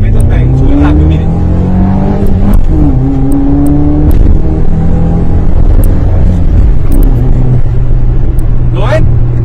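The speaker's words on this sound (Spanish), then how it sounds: "Miren esto, si yo subo rápido de revoluciones" A car engine revs up quickly and loudly in repeated rising bursts, its whine climbing in pitch over a steady low rumble, while someone talks throughout.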